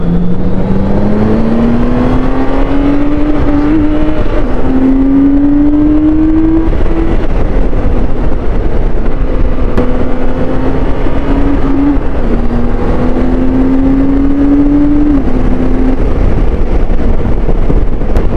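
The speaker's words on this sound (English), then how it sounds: "enjoy the music of this inline 6-cylinder engine" A BMW K1600 GTL motorcycle's inline six-cylinder engine hums smoothly while riding, its pitch rising in repeated gear-by-gear climbs under steady wind roar, without any talking.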